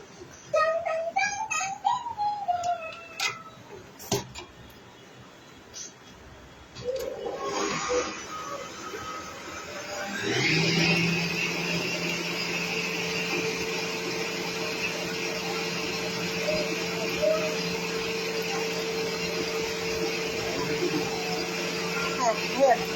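Electric mixer beating biscuit batter with eggs, a steady loud whirring drone that starts partway through and runs without a break, with a person talking over it and clattering before it.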